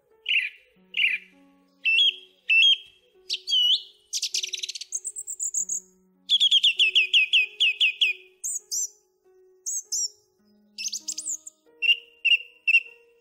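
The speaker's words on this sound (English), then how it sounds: "here is the thrush sound that Divirsanulla was talking about" A thrush singing, a clear solo run of varied whistled phrases and chirps with brief pauses between them, bright and close against a quiet background.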